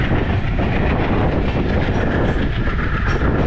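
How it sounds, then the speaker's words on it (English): A train on India's lowest-class sleeper service, Udaipur to Jaipur, rumbles past loud and close, a continuous heavy roar of wheels on rails with a faint rhythmic clatter running through it. "Here's the train."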